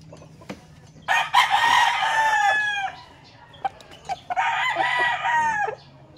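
Two loud, drawn-out crows from a champion fighting rooster with three wins, a large bird at a home gamefowl yard; each crow lasts about two seconds, close to the microphone, with a few short clucks between and faint background noise.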